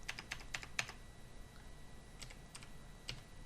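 Keys clatter on a computer keyboard in a few short bursts of quick taps with pauses between, close and fairly quiet, with no one talking.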